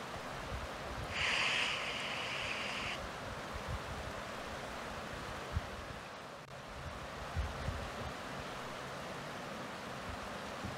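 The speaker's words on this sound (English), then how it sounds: "Listening to the sound of the river." A river flows steadily on a riverside walk, a continuous broadband rush of water with some wind noise and a brief high-pitched tone near the start.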